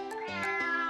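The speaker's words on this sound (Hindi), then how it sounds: "ओह, कितनी बदमाश बिल्ली है।" A cat gives a couple of short, close meows, each with a rising then falling pitch, clear and alone.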